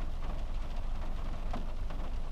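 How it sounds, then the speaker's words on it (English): Rain falling outside a post office, a steady hiss of drops pattering on surfaces, moderately quiet and unbroken, with no voices. "It's raining."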